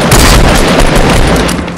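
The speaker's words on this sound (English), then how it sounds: "Oh, he's sniping too." Sniper rifle fire in the Fortnite video game, heard as a dense, loud burst of booming gunfire filling a brief moment with no talk.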